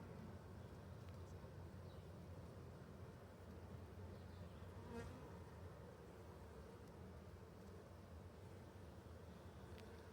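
Steady low buzzing of many bees fills the background during a beehive inspection, a constant insect drone without pauses.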